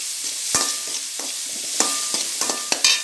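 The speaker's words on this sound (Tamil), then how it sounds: "பீன்ஸ் நல்லா வதங்கதும்" Beans sautéing in a pan for rava kichadi, a soft sizzle punctuated by several sharp scrapes and taps of a spoon stirring against the pan, close and without voices.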